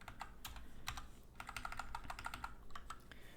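Rapid keystrokes on a computer keyboard in irregular bursts, with short pauses between runs of clicks, close and fairly quiet over a low steady room hum.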